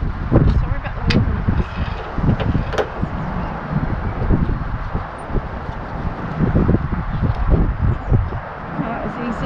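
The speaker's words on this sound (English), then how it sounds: "Sorry about the wind." Gusty wind buffets the microphone in rumbling bursts throughout, outdoors during a Nissan Micra K10 passenger door change, with low thumps and occasional voices underneath.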